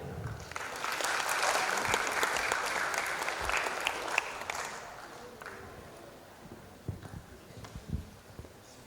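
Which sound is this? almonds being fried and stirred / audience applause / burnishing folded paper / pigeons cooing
audience applause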